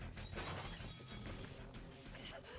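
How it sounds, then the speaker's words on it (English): Window glass shatters in the Fate/stay night Remastered video game, a sustained, dense crash of breaking glass with scattered high tinkling fragments, heard at moderate level throughout. "My back shatters the window"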